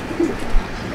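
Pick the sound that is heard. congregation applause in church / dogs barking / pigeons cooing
pigeons cooing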